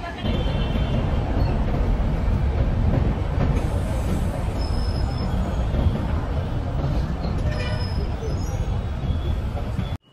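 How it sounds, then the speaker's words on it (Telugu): Jan Shatabdi Express pulling away from platform 10 at Vijayawada Junction, a loud close rumble of wheels and carriages with brief high squeals from the rails, continuous throughout. "మధ్యాహ్నం కరెక్ట్ గా 3:30కే మన ట్రైన్ అయితే ప్లాట్ఫామ్ నెంబర్ 10 నుండి అయితే డిపార్చర్ అవుతూ ఉంది."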